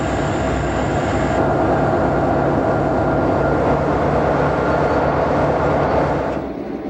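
The California Zephyr passenger train running along the track toward Helper, a loud, steady rumble of wheels on rails with a high whine that drops away near the end.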